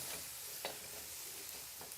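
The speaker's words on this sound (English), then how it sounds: "I'm gonna go ahead and stir fry everything so it's nice and hot" Yakisoba noodles stir-fried in a hot pan, a faint steady sizzle broken by a few soft scraping stirs.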